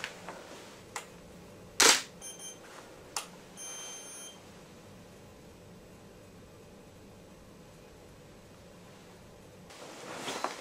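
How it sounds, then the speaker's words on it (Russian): A camera shutter clicks once, sharp and close, while taking a food photo indoors. A few faint beeps and small clicks surround it against a quiet hiss. "фотографирую"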